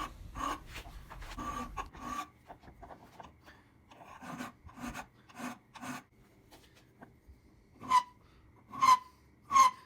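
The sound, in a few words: hand filing a hand-forged maker's mark with a small round file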